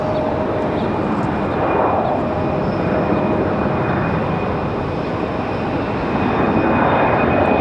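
A Republic Airways jet airliner departing Raleigh Durham airport in the evening, a loud, steady broadband engine roar with a faint high whine, continuous throughout and unbroken by talk.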